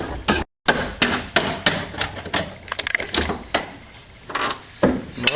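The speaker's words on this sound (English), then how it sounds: "I'm just tapping the end of the bolt" A hammer taps the end of a long bolt fitted through an AE86 rear link and frame, a run of sharp, close metallic knocks at an uneven rhythm, some quick doubles, with brief pauses between strikes.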